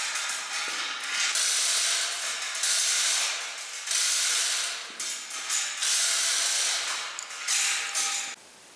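A ratchet strap cranked tight to lift a trailer's front axle, giving a rapid run of close, loud clicking pawl strokes in repeated bursts that stop abruptly near the end.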